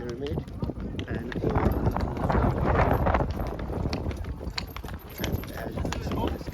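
Hooves clip-clop steadily during a horse ride near the great pyramid, the rhythmic footfalls mixed with wind buffeting the microphone and people talking over them.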